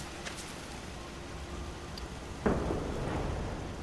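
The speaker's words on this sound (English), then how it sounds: "get rid of this rain" Steady rain hisses throughout a stretch of bad weather in the video game Fallout 4, with a sudden thunder crack breaking in midway and rumbling on beneath the downpour.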